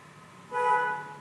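A single sustained horn blast with a strong harmonic tone, sounding for about half a second over a low background hum.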